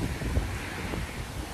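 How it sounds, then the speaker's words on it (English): Steady wind buffeting a microphone, a low continuous roar with rumbling gusts and no voices. "And another very windy day."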